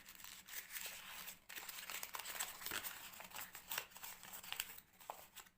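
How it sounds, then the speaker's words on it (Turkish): Sheets of paper crumpled by hand for a preschool space-themed craft, a dense, continuous crinkling and rustling close up, with no talk over it. "Evet buruşturduktan sonra açıyoruz."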